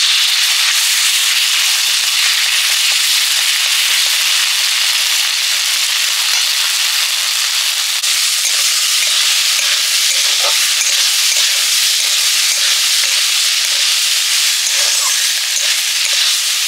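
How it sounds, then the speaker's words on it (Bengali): Cumin, dried chilli and onion paste frying in mustard oil, a steady loud sizzle that hisses continuously for the whole stretch with a few faint crackles and stirring scrapes. "এবারে আমি সাইড করে একটু সর্ষের তেল দিয়ে জিরে, শুকনো লঙ্কা আর পেঁয়াজ বাটাটা দিয়ে দেব।"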